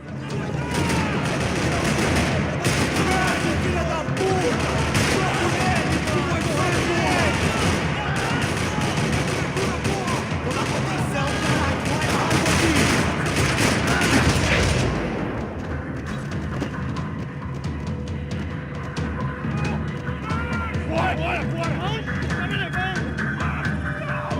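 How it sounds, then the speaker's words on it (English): Dense, continuous rattling gunfire with booms fills the first fifteen seconds, then drops to quieter scattered shots and background noise. "Another parking lot rattling with gunfire."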